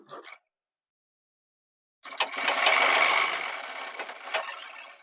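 An electric sewing machine stitches the front part of a gents' shirt, starting after a short silence and running in a steady, close mechanical whir for about three seconds.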